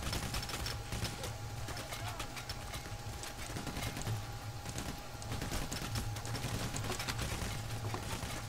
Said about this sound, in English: Oh crap, the shots are going.